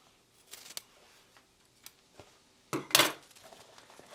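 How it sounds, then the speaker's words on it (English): Scissors snip off excess fabric while a fabric wristlet is being sewn; a few light clicks come first, then a louder, close burst of cutting sounds near the end. "I'm just going to snip this extra off."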